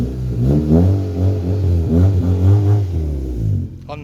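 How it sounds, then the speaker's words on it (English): A small Honda car engine revved hard in a series of loud, close, rising and falling pulls, with a faint clatter beneath and a brief click at the end. "Unnecessary revving."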